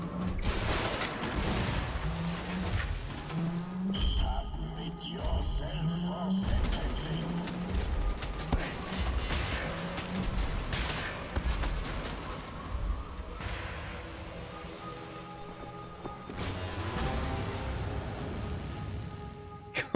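A laser gun fires repeatedly at a giant robot in Wolfenstein: The New Order. The shots come in rapid bursts amid explosions and game music, loud and continuous, while a voice talks over parts of it.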